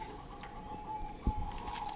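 A zebra dove (perkutut) coos softly over a noisy, rustling background, with a brief dull thump near the end.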